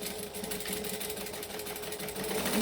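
A sewing machine runs continuously while it top-stitches a pocket close to the folded edge, a steady fast mechanical whir and needle patter at low volume with no talking.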